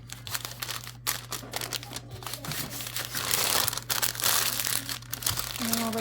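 Homemade butter being folded up in its wrapping, close crinkly crumpling and rustling of the wrap in irregular bursts, with a steady low hum beneath.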